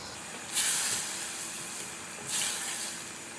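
Tomatoes fry in a pot with a steady hiss while a dhaba-style mash and chana daal is cooked. Two louder sizzling surges break through, as if the pan is stirred, and there is no talking.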